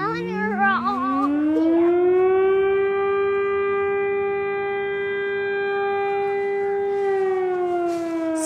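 A civil defense siren in rural Amish countryside, sounding for a fire or accident, winds up to a long steady wail that holds and begins to fall, loud and clear, with faint voices at the start.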